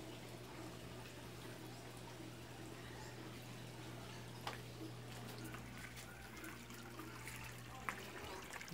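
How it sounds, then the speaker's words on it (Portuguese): Drain water from a washing machine flows out in a steady, quiet trickle and gurgle, with a constant low hum underneath and a couple of faint clunks during a morning of home laundry. "a água da máquina vai pra ali, ó."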